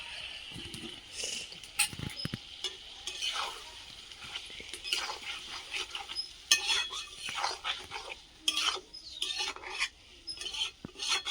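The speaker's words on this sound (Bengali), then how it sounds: "ভালো করে নাড়িয়ে চাড়িয়ে নেব" Meat with tomato paste being stirred in a pan, with faint scattered scrapes and clinks of a spoon against metal at irregular intervals over a quiet low simmer.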